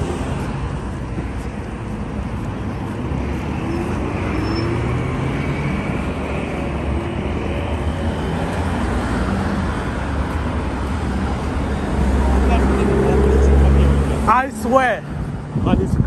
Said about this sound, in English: That's the bus we've been using.